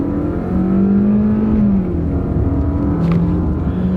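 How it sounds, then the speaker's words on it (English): A car engine accelerates under strain at higher RPM during a test drive of a used vehicle being checked for a misfire, a steady loud drone with rising and shifting engine tones and no talk. "We'll step on the gas."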